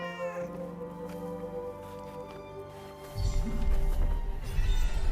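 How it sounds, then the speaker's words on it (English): A cat meows in the Forspoken video game while exploring a city, a few clear close meows over soft ambient game music, followed by heavier background noise and thuds. "A cat."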